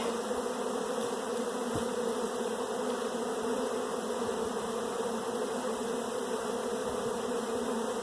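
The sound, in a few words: honeybees buzzing at hive with syrup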